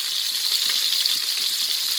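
Fish roasts in oil in a pan, giving a close, continuous crackling sizzle with faint popping throughout and no talk.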